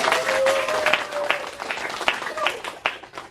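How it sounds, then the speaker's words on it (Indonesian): An audience bursts into applause at a university teaching session, a steady patter of many hands clapping that fades off over a few seconds, with a voice briefly heard in the background. "Kita kasih aplaus yang meriah untuk"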